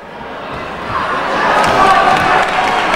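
An arena crowd at a kickboxing bout swells into loud cheering and shouting that builds over a few seconds, a dense roar of many voices filling the hall.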